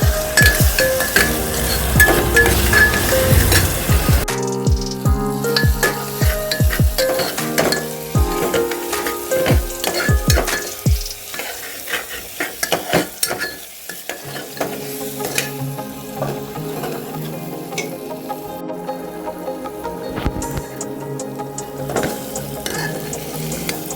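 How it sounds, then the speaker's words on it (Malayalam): Chopped onions sauté in hot oil for a kids' pasta dish, a steady loud sizzle broken by repeated sharp scraping and clacking of the stirring spoon against the pan. "ഇപ്പോൾ സവോള ഒരുവിധം വഴറ്റി വരുന്നുണ്ട് കേട്ടോ."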